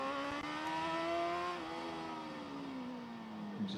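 A racing motorcycle at the Macau Grand Prix on a tight, twisty street circuit holds one steady engine note with no gear change. The pitch drifts slowly down as it passes at moderate distance.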